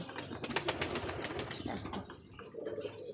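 Pigeons in a backyard coop at the afternoon, with a dense burst of wing flapping and fluttering for about two seconds, then quieter shuffling and soft activity nearby.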